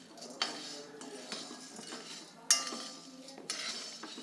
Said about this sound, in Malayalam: എപ്പോഴും ഇങ്ങനെ ഒന്ന് ഇളക്കി കൊടുക്കണം, ഇല്ലെങ്കിൽ ചിലപ്പോൾ ഒന്ന് കരിഞ്ഞു പോകും.